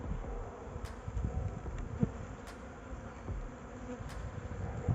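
Honeybees hum in a steady, close drone around an open hive, with a few louder buzzes flicking past.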